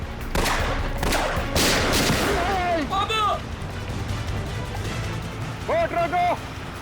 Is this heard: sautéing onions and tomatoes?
no